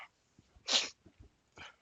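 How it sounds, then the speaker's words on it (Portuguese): An adult man sneezes once, a short sharp burst close to the microphone, followed by a quieter breath, with faint small noises around it. "Dei espirrando aqui."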